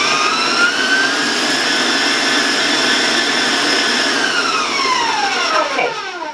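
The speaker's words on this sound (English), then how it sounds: "I'm going to raise my speed a little bit, so I want to warn you about the sound about the mixer." An electric stand mixer runs at high speed beating brownie batter, giving a loud, steady whine with a rising and falling pitch, close and continuous without talk.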